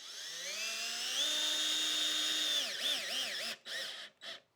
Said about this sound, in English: pre-drilled holes are ready to drill, we need to do 2 on each side